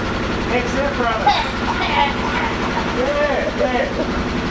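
Turbocharged Toyota 1UZ-FE V8 idling steadily close by after its first start, a low rumbling drone that holds through the whole stretch while people talk over it.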